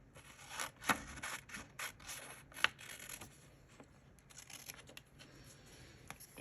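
Paper being trimmed for a journal in a composition notebook: quiet scissor snips and papery rustles, irregular close strokes with one sharper crisp cut, no voices.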